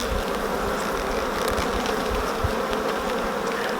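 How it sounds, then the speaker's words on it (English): Honeybees in an open hive colony give off a dense, continuous buzzing hum, steady and close, with brief louder flickers as individual bees pass near. "See a lot of bees in this colony."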